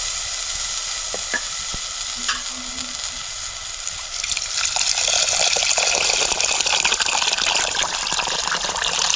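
Faint stirring and a few clinks, then water gushes into a hot pan of rice with stuffed eggplant masala and a loud, bubbling sizzle takes over and keeps going, up close.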